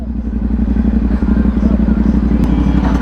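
Engine of a CFMOTO 450SR sport motorcycle running steadily, a deep rumbling idle with a pulsing low throb and faint clatter, with background chatter under it.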